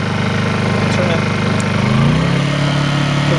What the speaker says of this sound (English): Right now it's on eco mode, so it's idling real slow speed.